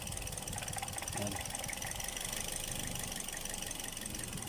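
A car engine idles roughly with a defective ignition coil, a steady uneven mechanical hum with a faint knocking quality, continuous and fairly close, no speech over it.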